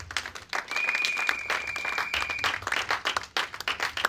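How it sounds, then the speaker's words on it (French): A church congregation claps and applauds together in a dense, steady burst lasting a few seconds, with no talk over it. "Acclamons pour le roi du gloire."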